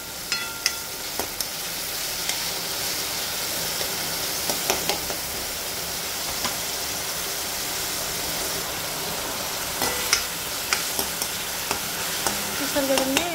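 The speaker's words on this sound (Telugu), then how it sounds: "పచ్చివాసన పోయే వరకు వేయించుకోవాలి" A peas ragada mixture fries in a pan with a continuous loud sizzle, punctuated by scattered scraping and tapping stirring sounds throughout, with no voices.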